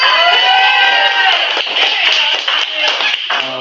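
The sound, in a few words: audience clapping at an open mic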